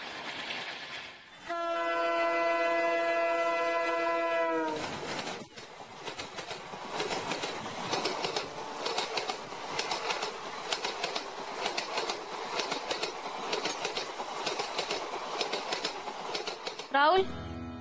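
A train sound carries over from a neighbour's house in a chawl: a long, loud, multi-toned horn blast, then a steady rumbling clatter of rolling wagons that continues to the end, with voices talking over it.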